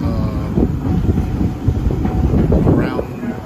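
Rumbling noise with rattling and clatter from a rail car built in the late 1920s, a voice talking over the steady rolling din of the moving train.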